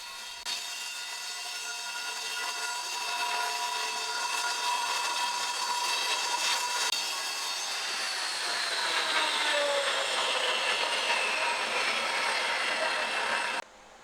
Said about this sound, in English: I had to chip away at the render